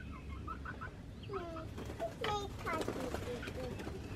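A rooster crows a few times at moderate distance, its harmonic calls rising over clucking poultry and other chirping birds.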